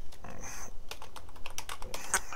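Rapid clicking of keys on a computer keyboard, close and fairly steady, a burst of keystrokes with no talking over it.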